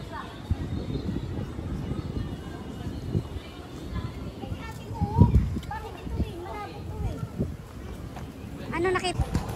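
Horse hooves clip-clopping on the streets of Intramuros while a family talks and children chatter nearby, with the hoofbeats mixed into busy crowd noise.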